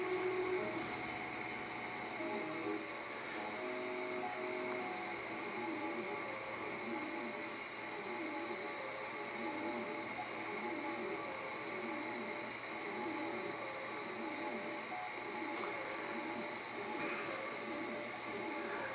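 A NEJE Master 7000mW laser engraver runs at full speed, unbolted from its board, with its X gantry vibrating. Its stepper motors whine in rapid, repeating rising and falling tonal sweeps under a steady mechanical hum, with no voices.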